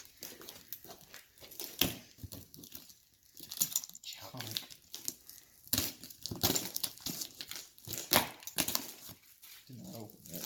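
A box holding a Big Gun Evo R dual exhaust for a 2016 Raptor 700R is torn open outdoors in the cold: close, irregular bursts of cardboard tearing, crinkling packing material and scraping, with brief voices murmuring between the rustles.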